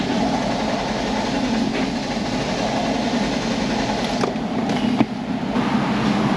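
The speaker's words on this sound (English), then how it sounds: "I'll crank it again." Engine cranking over repeatedly without catching, with a failing fuel pump starving it of fuel pressure; a steady, loud, continuous churning drone runs throughout with a few sharp clicks near the end.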